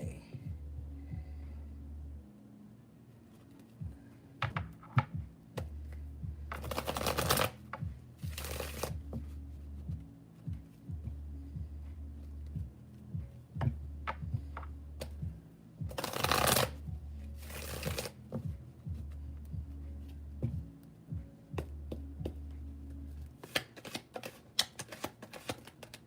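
Tarot cards shuffled by hand in a quiet room, repeated soft riffling bursts and flicks coming in uneven waves, close and faint, no talking.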